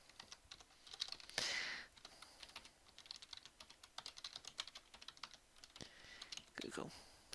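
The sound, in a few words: typing on a computer keyboard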